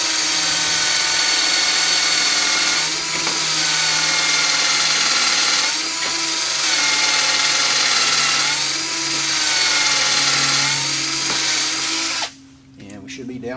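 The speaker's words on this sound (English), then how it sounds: "So we'll go ahead and get the drilling started." High-speed power drill boring into an aircraft spar, a loud sustained whine with periodic dips in pitch as the bit bites, running about twelve seconds before cutting off abruptly.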